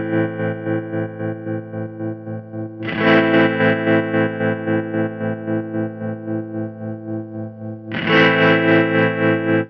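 Guitar through a Keeley Verb O' Trem pedal set to a photocell-style tremolo, sustained chords pulsing in a fast, even throb, with two fresh strums swelling the volume, played alone without talk.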